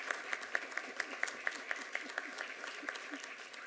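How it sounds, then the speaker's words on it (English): A small group at a city council meeting gives a round of applause, with a few distinct, rhythmic hand claps standing out over a quiet room for several seconds. "Let's give her a round of applause."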